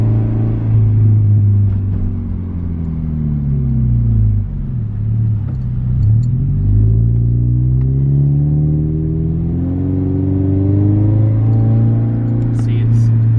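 A Toyota 86 on Tein Street Basis Z coilovers rolls along a bumpy neighborhood street, a steady low engine and road rumble with wavering pitch as the car dips and climbs, under someone talking.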